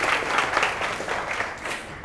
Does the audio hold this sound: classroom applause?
yes